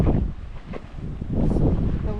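Gusting wind at a crater in Hawaii Volcanoes National Park on the Big Island, buffeting the microphone in low, rumbling surges that ease briefly and then swell again, close and fairly loud.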